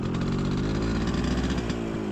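Motorcycle loaded with five sacks of palay (rice) at a rice field, engine running steadily and loud throughout at a close, even drone with no talk.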